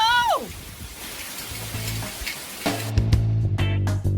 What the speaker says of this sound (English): The rain's coming in on me.